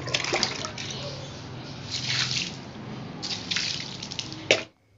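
Rainwater that has been falling for days drips and pours outside, a close, continuous splashing wash with bursts of heavier falling water, ending abruptly.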